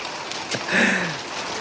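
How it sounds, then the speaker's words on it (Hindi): Rain begins to fall in a mountain village in Uttarakhand, a light, faint patter under a brief swishing sound midway through. "अभी देखो बारिश लगना शुरू हो गई है भाई"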